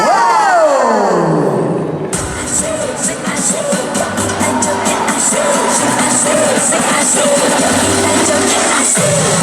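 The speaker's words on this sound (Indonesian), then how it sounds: "boleh dong kita minta tepuk tangannya dong" A crowd cheers and applauds at a regional retail festival in Semarang. A loud, sustained burst of clapping and shouting breaks in over fading music and continues under a bright, ringing backing track.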